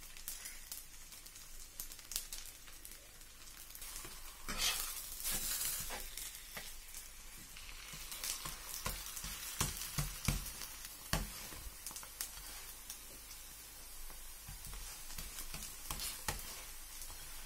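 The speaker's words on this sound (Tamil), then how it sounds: "இப்போ பேன் வந்து ஹீட் ஆயிடுச்சு, நம்ம போட்டுடலாம். போட்டுட்டு நல்லா கொஞ்சம் ஆயில் விட்டுடலாம்." A parotta sizzles and fries in a hot, oiled pan, with steady close crackling and spitting that swells now and then as oil is added and the bread is turned, with no talk over it.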